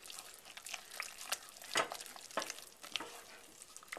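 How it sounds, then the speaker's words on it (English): Pâte à choux dough stirred in a pot with a spoon, giving soft, wet scraping and squelching strokes at an irregular pace, fairly quiet and close, with no talking. "We're going to stir that up."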